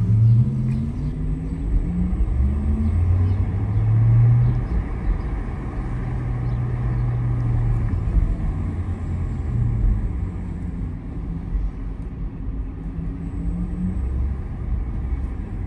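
A Porsche Taycan Cross Turismo Turbo 2021 electric car drives past with its low, humming synthetic drive sound, a steady rumble that swells and falls in pitch over several seconds before fading, with no talking.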